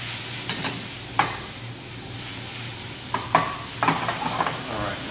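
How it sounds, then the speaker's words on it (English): Lemon juice and white wine sizzling in a pan after salmon cakes are cooked, a continuous hiss with occasional clinks and scrapes of a utensil stirring, close up. "Right, so we'll go ahead and deglaze."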